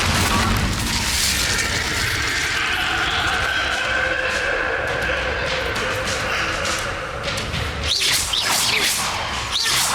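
Repeated Confringo, Incendio and Bombarda spell blasts in Hogwarts Legacy: a continuous roar of booming impacts and whooshing bursts, loud and dense, with sharper cracks near the end.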